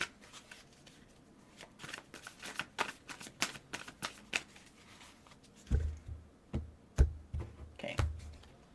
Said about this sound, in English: We will pull one card.